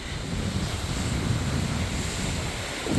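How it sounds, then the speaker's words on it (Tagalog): Steady gusting wind rushes and roars outdoors ahead of Hurricane Ernesto, under signal number 3, with a constant broadband whoosh buffeting the microphone. "Nag-i-start na siya hangin."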